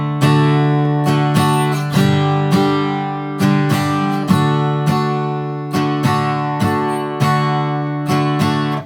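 An acoustic guitar strums "I Can See Clearly Now" in an easy campfire arrangement, a steady down-up pattern of bright, ringing chords played alone at a moderate tempo.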